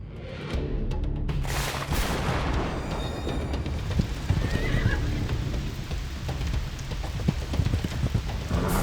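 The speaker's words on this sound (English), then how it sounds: "One evening while riding his horse" A horse gallops with steady hoofbeats and whinnies through a violent storm, amid loud rushing noise of pouring rain and rumbling thunder, with no voices.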